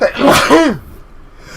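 A single sharp human sneeze, close and loud, cutting off quickly into quiet room noise.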